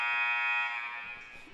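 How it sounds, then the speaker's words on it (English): Loud electronic buzzer at the start of a high school junior varsity volleyball match in a gym, a steady tonal blare that holds for over a second and then fades slightly. "There's the buzzer."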